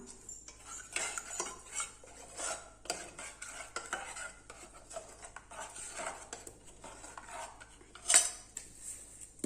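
A spoon stirs dry ginger powder and cardamom powder together in a bowl, making quiet scraping and clinking strokes in an uneven rhythm with one sharper clink near the end. The sound is close up with no talking.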